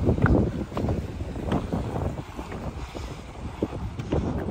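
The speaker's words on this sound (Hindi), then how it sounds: "हवा भी बहुत प्यारी है, ठंडी ठंडी" A cool breeze blows by the shore of Lake Michigan, buffeting the microphone in uneven gusts with a low rumbling rush and faint water sounds, no talking.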